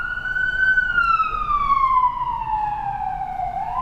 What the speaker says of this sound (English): 9th Street becomes very noisy sometimes with the fire engines here.